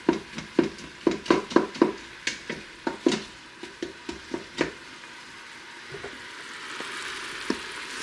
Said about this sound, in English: Move all the burnt bits scraped from the bottom of this insert